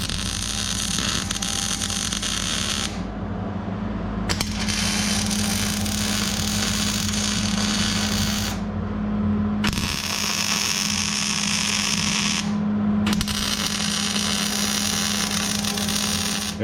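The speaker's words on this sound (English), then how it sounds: "I'm going to weld these onto the end and then grind them down to make them round and pretty." Welding and grinding 3/16-inch steel caps onto the ends of an FJ Cruiser front bumper: loud continuous harsh grinding noise with a steady hum, broken by short pauses and abrupt restarts, close up with no talk.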